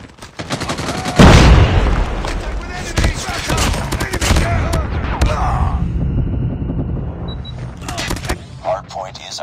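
Call of Duty hardpoint match gunfire and a grenade blast: a heavy explosion hits early, then dense rapid automatic fire rattles on before thinning out, with voices calling out over the battle.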